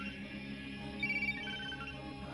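A mobile phone rings in a tense scene from a Hindi-dubbed horror film. The faint, warbling melodic ringtone rises briefly over a low, droning background score.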